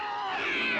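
A cartoon cat in a Smurfs episode lets out one drawn-out, rising meow, loud and close, with no talking over it.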